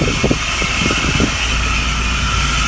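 A worn alternator belt pulley on a Mitsubishi Montero with a 4N15 engine gives off a squeaking, whining noise over the engine's steady idle, recorded close up.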